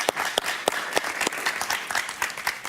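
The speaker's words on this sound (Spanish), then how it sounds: "Un aplauso para Eduardo, por favor." A television talk-show audience applauds guest Eduardo Martínez. The crisp individual claps are clearly separate, close and moderately loud, and the clapping is sparse and uneven.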